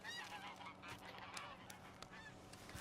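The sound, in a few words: geese honking in video game Red Dead Redemption 2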